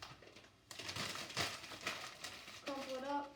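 Sheets of newspaper are crumpled by hand while a fire is laid in a wood-burning fireplace. Close, crackly crinkling runs for about two seconds, then a voice speaks briefly.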